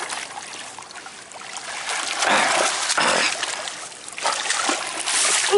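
Water splashes and trickles in uneven bursts close by as a fish is netted from a boat.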